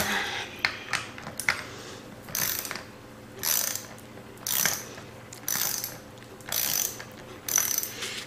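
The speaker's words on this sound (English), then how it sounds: "So I'm going to use my socket wrench here. And you're just going to keep turning until it comes off." A socket wrench ratchets repeatedly while loosening a part on a convection oven used for mug wraps, with bursts of rapid clicking in an irregular rhythm, close and fairly loud against a low steady hum.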